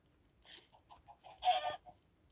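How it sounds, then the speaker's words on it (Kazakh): Chickens cluck in short, irregular bursts while being fed, with a louder flurry of clucking near the middle; the birds sound close but fairly quiet. "Ал, тауықтарға беремін. Тауықтар келіңдер."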